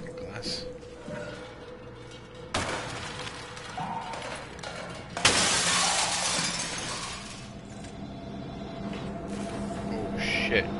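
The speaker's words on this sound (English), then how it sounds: "Break through this fucking glass." Glass shatters in the video game SOMA, two sharp loud breaks a few seconds apart, the second bigger and followed by scattering debris over a low mechanical hum.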